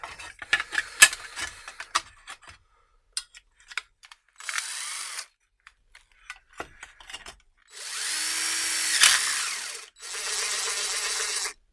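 A DeWalt impact driver fitted with a DWHJHLD clutch bit holder spins freely with the clutch disengaged against steel metal profiles: a short whirring burst, then two longer, steady high-pitched runs separated by brief pauses, close and loud with no talk.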